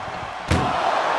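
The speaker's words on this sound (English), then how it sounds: "Oh, what a powerhouse collision here." A single heavy slam from wrestlers colliding in the video game WWE 2K25, one sharp thudding impact just past the midpoint over steady arena crowd noise.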